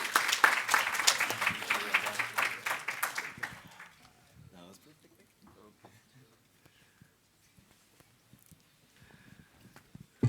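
Audience applause for presenters at the end of an online community-led monitoring session, a few seconds of moderately loud clapping that quickly fades, leaving scattered faint taps and near silence.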